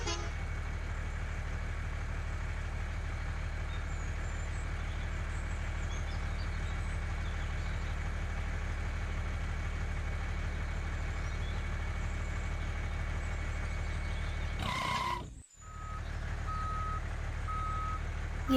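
A tractor engine idles steadily with a low rumble while reversing beeps sound throughout, at a brick-loading site during construction work; a brief dropout interrupts near the end.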